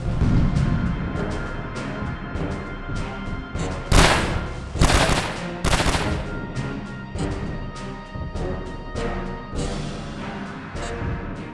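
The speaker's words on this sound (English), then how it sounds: "There's the bombing run, and it misses again." Bombing run in the game Tablet Tyrant: Trenches II: a few loud explosive bursts land in quick succession over a busy bed of crackling battle noise and scattered sharp impacts.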